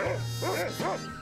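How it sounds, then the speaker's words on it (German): A cartoonish dog from the adventure game Monkey Island 2 gives three quick, yappy barks in a row, close and clear over a low steady hum. "I was talking to the dog."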